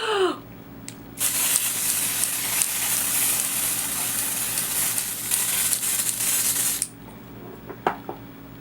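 Dior AirFlash spray foundation hisses from an aerosol can onto a face in one long continuous burst of about six seconds, loud and close, with a short spritz just before it and soft handling noises after.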